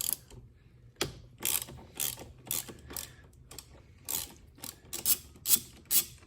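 A ratchet loosening the bolt on a car battery terminal during main battery removal on a Volvo S60: bursts of sharp, quick clicking strokes, close and fairly loud, repeated in short spurts with brief pauses between.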